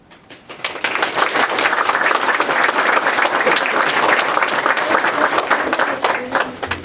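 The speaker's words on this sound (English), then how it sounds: "Another round of applause." Dense, steady applause from an audience at a 2017 poetry slam, rising quickly after a slam poem and holding strong throughout, with faint crowd noise mixed in.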